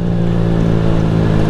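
A Honda Fan 160 motorcycle engine idles up close with a strange noise, a steady low drone with a rough, irregular mechanical texture running through the whole short stretch.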